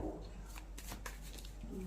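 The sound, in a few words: shuffling tarot cards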